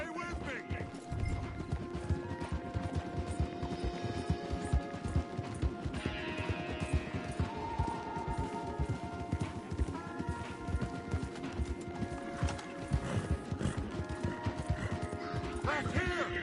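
Horses gallop in Red Dead Redemption 2 with fast, steady hoofbeats close by, overlaid with game music and ambient effects while voices speak intermittently.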